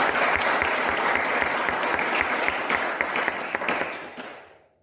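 Sustained applause from an audience of brothers clapping for the sisters at a spiritual awareness gathering in Hanwatchond, dense and steady throughout before tapering off near the end.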